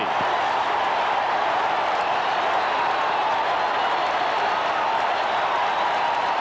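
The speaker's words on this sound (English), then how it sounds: "like a playoff game the way this crowd has risen up" A packed stadium crowd at a 1983 NFL football game in Buffalo roars continuously, a dense, loud wash of cheering and clapping that holds steady throughout with no break.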